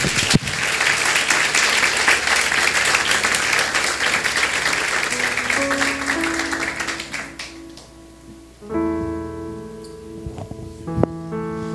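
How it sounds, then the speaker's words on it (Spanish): Church congregation gives a loud round of applause to praise God, dense clapping for about eight seconds that thins and fades as music with sustained tones comes in underneath. "alaba a Dios en esta mañana con un fuerte aplauso"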